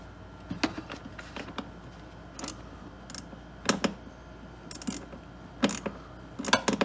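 Ratcheting wrench tightening a 10 mm bolt on a GenMax GM9000iED generator during a propane and natural gas conversion, heard as short bursts of quick mechanical clicks at close range, separated by brief pauses.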